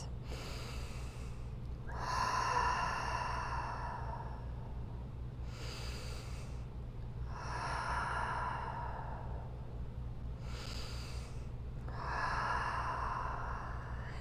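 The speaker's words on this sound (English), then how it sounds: "take 3 deep breaths." Three slow, deep breaths drawn and released during a yoga pose in a morning vinyasa session, each long airy inhale and exhale close and clear over a steady low hum, with no talking.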